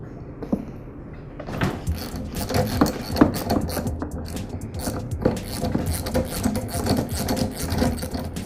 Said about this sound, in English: use a socket wrench to remove the plug